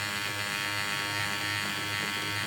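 An electric stitch eraser buzzes steadily at close range while removing complex fill embroidery stitches, a constant high, dense electric hum without pauses.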